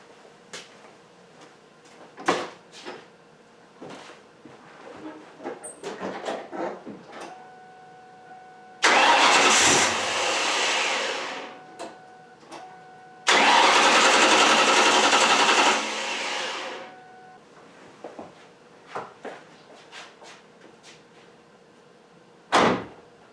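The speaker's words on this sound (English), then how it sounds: "start the engine until it runs out of fuel" A Ford car engine with its fuel pump fuse removed cranks and fires up twice, each time running loudly for a few seconds before cutting out, with clicks and small knocks in between.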